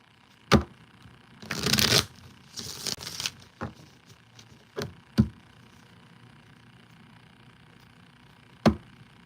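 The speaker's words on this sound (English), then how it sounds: "Let's give it a fan shuffle." Tarot cards being fan shuffled: a sharp tap, then a rapid riffling burst of cards flicking together, followed by softer shuffling rustles and several isolated sharp card taps spread across a quiet room.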